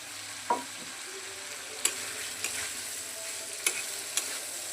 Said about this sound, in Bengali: এখন ভেজে রাখা সবজিগুলো দিয়ে দিচ্ছি।